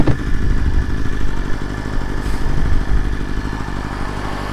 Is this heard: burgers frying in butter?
no